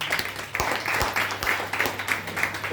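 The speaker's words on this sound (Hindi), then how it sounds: "तो जोरदार ताली हो जाए इस प्रोडक्ट के लिए।" Steady applause from a crowd greeting a product at a presentation, dense overlapping claps of moderate loudness filling the whole stretch with no talk.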